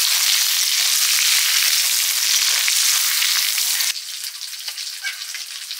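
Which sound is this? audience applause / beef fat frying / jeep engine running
beef fat frying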